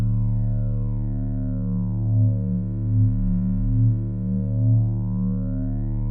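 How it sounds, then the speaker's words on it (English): Eurorack phaser module (WMD Orion) processing a sine wave with a wave folder engaged, a steady harmonic-rich synth tone with sweeping phaser notches rising and falling across the spectrum, played alone with gentle periodic swells. "I'm going to go sine wave. Then I'm going to add this wave folder."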